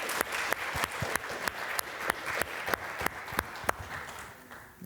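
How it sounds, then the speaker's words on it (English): Applause for a veterans panel at the close of a discussion, a steady clatter of clapping from a modest audience with a few sharp individual claps standing out, fading slightly toward the end. "let's give our panelists one more round of applause"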